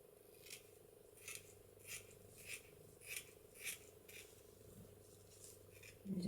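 Quiet, close-up snips of scissors cutting fine mesh, about ten evenly spaced crisp cuts over a faint steady hum.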